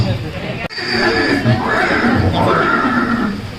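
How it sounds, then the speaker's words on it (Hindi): A horse whinnies in a loud, sustained neigh with rising and falling pitch, heard in a museum display about Maharana Pratap and his horse Chetak, with a voice narrating over it. "ये दृश्य महाराणा प्रताप और सुविख्यात स्वामी भक्त घोड़े चेतक के अंतिम मिलन का है।"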